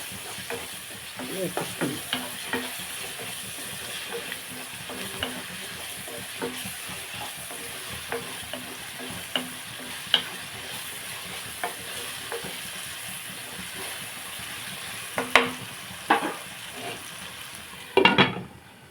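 Steady sizzling of ginger-garlic paste frying in a pan with occasional scraping and stirring clicks, a louder clatter near the end.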